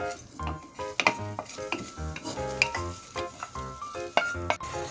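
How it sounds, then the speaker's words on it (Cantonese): Star anise, peppercorns, Sichuan pepper, bay leaves and fennel are dry-roasted over low heat in a wok, making a series of scraping, rattling stirs with light clinks at an irregular rhythm. "用細火白鑊炒香五香配料"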